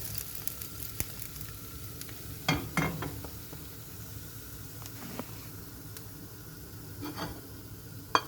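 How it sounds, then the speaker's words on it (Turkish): Anchovies fry in oil for a crispy fried hamsi dish, giving a faint, steady sizzle with a few sharper pops and clatters scattered through it. "Hamsilerimiz kızarmıştır."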